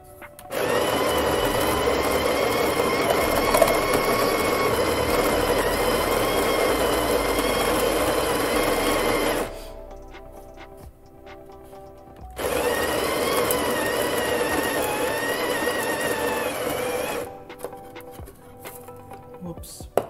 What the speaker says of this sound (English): the Breville Smart Grinder set at its top grind setting, which is 60 for a percolator